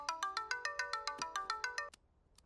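A mobile phone ringtone rings in a dramatic film scene: a bright, rhythmic electronic melody pulses steadily and fairly loud, then cuts off abruptly near the end.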